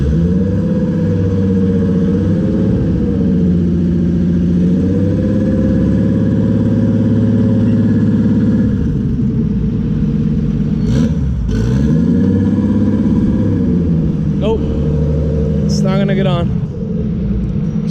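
RB26-swapped Subaru WRX running steadily during loading onto a trailer, a loud close engine drone with small rises in revs, a few knocks and clicks, and voices partly over it.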